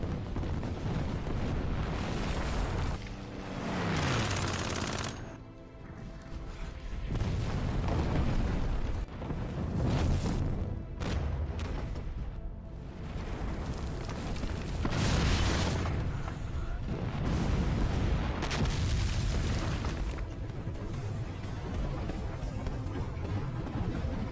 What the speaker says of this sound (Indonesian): pasukan tentara Uni Soviet mendapat tembakan bertubi-tubi dari artileri tentara Jerman